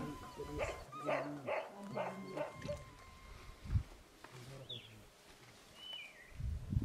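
Shepherds' dogs bark in the desert at dusk, a run of several barks in a cluster, then scattered distant yelps with quieter gaps between them.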